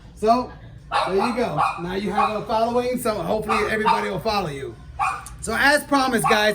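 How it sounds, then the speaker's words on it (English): French bulldogs bark and yip in short bursts nearby while a person keeps talking over them. "I'm sorry about the dog barking"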